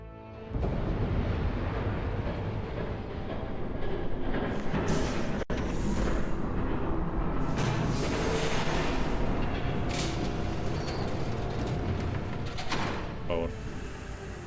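A train in the Batman video game rumbles past in a long, loud, steady roar, rising early and holding with rattling bursts and clanks layered on top until it fades slightly at the end.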